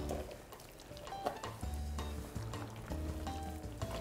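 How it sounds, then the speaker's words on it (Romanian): Fruit being folded and stirred into a cream filling for a layered diplomat cake, giving a continuous soft, wet swishing with faint clinks of the utensil against the bowl, close by and with no talking. "Adăugăm fructele în cremă, incorporăm fructele"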